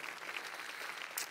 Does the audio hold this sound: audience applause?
yes